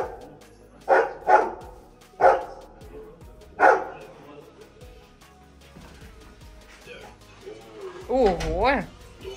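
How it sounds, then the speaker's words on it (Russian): A dog barks several times in separate sharp bursts, nearby, with a whimpering, yowling vocalization at the end amid quiet room noise. "Слышь, собака, если будешь гавкать, отсюда выгонит"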